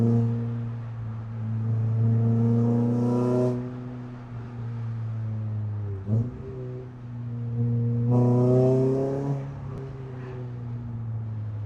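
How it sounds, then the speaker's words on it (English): A Renault Clio 200 engine revving hard while driving, its deep, loud harmonic drone rising in pitch through two long pulls separated by a brief lift off the throttle, heard from inside the car. "A bit of noise from a car is enough to put a smile on my face."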